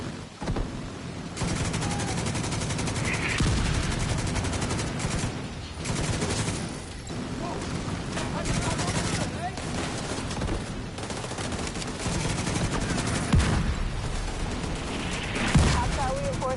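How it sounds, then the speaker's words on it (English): Continuous heavy gunfire in The Division 2, an autocannon firing blind amid a battle against hostiles and smoke, loud and sustained with overlapping bursts and occasional booms throughout. "The autocannon seems to be firing blind."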